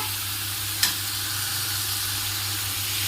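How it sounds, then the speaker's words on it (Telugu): Boiled potato pieces drop into a pan of frying onions for aloo kurma, giving a brief clatter followed by a steady, even sizzle that carries on alone. "ఉల్లిపాయలు వేగాయి కదండి, వేగిన తర్వాత వెంటనే మనం ఉడికించి పెట్టుకున్న బంగాళదుంప ముక్కలు ఇందులో వేసుకోవాలండి"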